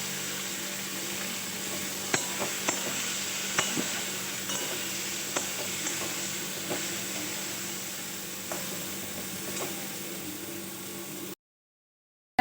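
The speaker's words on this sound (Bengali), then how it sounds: "জিরে আদা বাটাটা দিয়ে আমি ভেজে নিচ্ছি" Cumin-ginger paste with turmeric and tomatoes fries in a pan as a steady, soft sizzle with a few light clicks and taps of a spoon, before the sound cuts off to silence.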